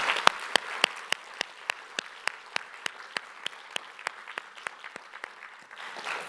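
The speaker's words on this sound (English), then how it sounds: "So can we all have a round of applause for all of the sponsors of ICFP?" Rhythmic synchronized clapping fills a conference auditorium at a functional programming conference, sharp regular claps in a steady beat over a softer bed of scattered applause, fading slightly near the end.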